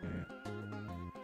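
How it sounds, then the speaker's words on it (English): Horse neigh from the Undertale Yellow video game, a single short whinny with a few quick, wavering pulses, fairly quiet and alone. "Large four-legged monsters. They put a seat on the top of them and everything. They're called horses, Star."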